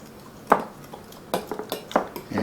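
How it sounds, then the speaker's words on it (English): A fork stirs food in a crock pot, with a sharp clink followed by a few lighter metallic taps and scrapes against the pot, close and without talking. "And we stir."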